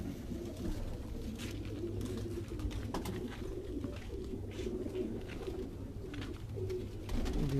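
Pigeons coo softly in low, rolling calls over a steady background murmur, with faint chirps and a few light knocks and flutters.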